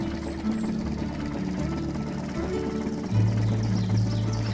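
Hydraulic pistons extend in the Poly Bridge desert campaign bridge simulation, a steady low mechanical hum and whir that grows louder and fuller partway through, continuing without speech.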